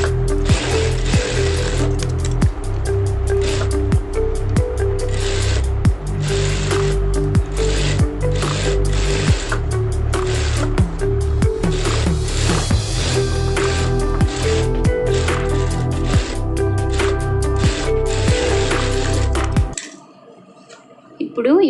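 A sewing machine runs a steady, rapid mechanical rattle as it stitches around a blouse lining, close and continuous for about twenty seconds before stopping, with faint talk over it.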